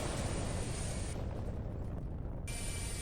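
Bombs exploding in Kerbal Space Program with BD Armory produce a continuous roaring, rumbling blast that fills the clip, with the sound dulling midway before flaring back to a full, bright roar.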